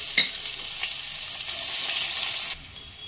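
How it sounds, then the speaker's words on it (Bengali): Chopped onion sizzles steadily in a pan on a medium flame, a dense continuous frying hiss with a few faint stirring clicks, then cutting off abruptly near the end. "পেঁয়াজ মিডিয়াম ফ্লেমে 2 থেকে 3 মিনিট ভেজে নেওয়ার পর"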